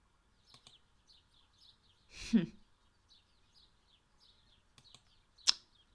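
Small birds in the cosy video game Blanket Cat give sparse, faint chirps and tweets scattered across a quiet scene, with a couple of louder, sharper calls standing out near the middle and end.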